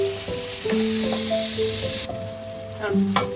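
Onions sauté with salt in a pan, giving a steady sizzling hiss with faint stirring, while a soft background tone hums underneath.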